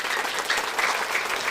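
A church congregation gives lively applause for God, a thick, continuous roar of many hands clapping at once, heard fairly close and unbroken by speech.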